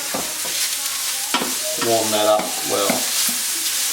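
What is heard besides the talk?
mushrooms sizzling and frying in hot pan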